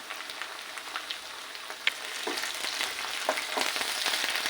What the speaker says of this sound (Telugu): పచ్చివాసన పోయేంత వరకు అల్లం వెల్లుల్లిపాయ ఫ్రై చేసుకోవాలి